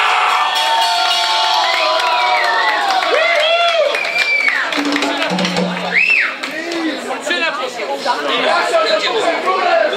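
A concert crowd cheers, whoops and claps after a performance, loud and close, with shouting voices and chatter mixed through the noise.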